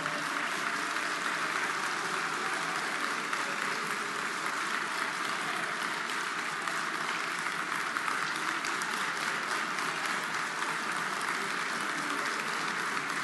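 Sustained applause fills a session of Chile's National Congress during a public address, a dense, steady wash of clapping from a large audience that holds at an even level without pause or break.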